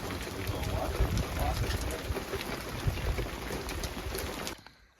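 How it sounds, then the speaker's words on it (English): Rain and hail pelt down outdoors in Nova Scotia during a horse barn build, a dense continuous patter and rattle with a faint voice in the background, cutting off near the end. "Rain and hail."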